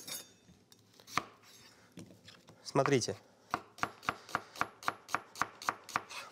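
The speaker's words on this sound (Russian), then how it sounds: "Полукольцом нарезаю лук." A kitchen knife slices an onion into thin half rings on a board, a close, even run of crisp chops that quickens into a steady rhythm, following a few scattered cuts and a brief spoken word.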